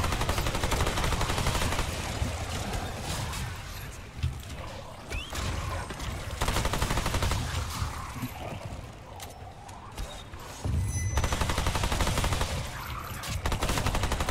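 Dense, loud gunfire from the shooter game Remnant II, sustained bursts and rapid volleys filling nearly the whole stretch with only brief dips in intensity.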